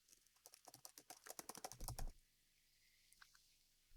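Typing on a computer keyboard while entering a title into a table in a word processor on a Windows laptop, a quick close run of key taps for about two seconds, then near silence with a couple of faint taps.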